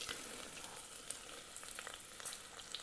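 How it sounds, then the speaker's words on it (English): Onion frying in an Instant Pot for chicken biryani, a steady close sizzle with faint pops and crackles running evenly throughout, with no talking. "Onion needs to be fried very well."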